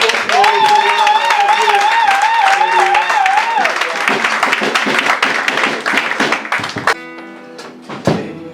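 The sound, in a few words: church congregation applauding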